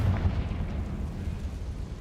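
The Confringo spell exploding in the video game Hogwarts Legacy, a deep rumbling blast that hits loudly at once and rolls away as a fading low roar, with no voices.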